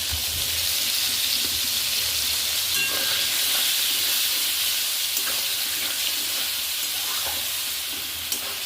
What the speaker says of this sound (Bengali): এবার এই তেলের মধ্যে আমি 2টো এলাচ, লবঙ্গ আর একটু দারচিনি দিয়ে দিলাম, দিয়ে গুলে রাখা মশলাটা দিয়ে দিলাম।